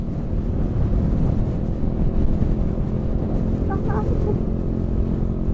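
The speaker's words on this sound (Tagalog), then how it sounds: "Lalakas ng hangin." Strong wind buffets the microphone in a constant low roar, with a few faint bird chirps briefly audible in the middle.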